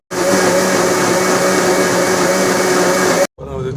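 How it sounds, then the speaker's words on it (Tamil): Electric mixer grinder whirring loudly and steadily as it grinds a fried kuppaimeni herb mixture, then cutting out briefly before restarting near the end. "இங்கே இந்த மிக்கு மிக்சியில் போட்டு க்ளீனாக அரைச்சி எடுத்துடலாம்"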